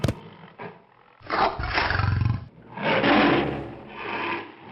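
A tiger roars several times in deep, rasping bursts with short pauses between, loud and close.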